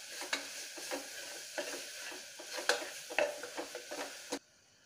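Spice powders for beef biryani being stirred in a pan make a series of close, irregular scrapes and taps of a spoon against metal over a light sizzle, ending abruptly.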